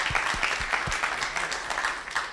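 An audience at a faith and entrepreneurship conference applauds a guest from Pakistan, a dense, continuous patter of many hands with a few low thumps early on and no speech.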